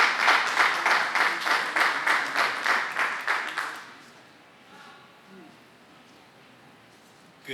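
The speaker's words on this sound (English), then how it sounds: "Give him a round of applause." Audience applause for an alderman of the 24th Ward: a close, fairly loud burst of clapping with a pulsing rhythm that fades out after about four seconds, leaving quiet room tone and faint murmuring.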